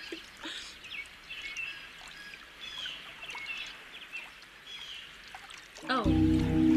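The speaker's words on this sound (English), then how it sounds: "Birds chirping, water, nature sounds, this type of stuff I sleep to" Birds chirp in scattered high calls over a steady wash of flowing water, a soft continuous nature ambience, with a louder low rumble swelling in near the end.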